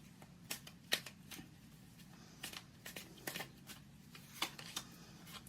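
Tarot cards being shuffled and drawn from a deck, crisp papery riffles and snaps scattered irregularly over a low steady background hum, close and fairly quiet, with no talking.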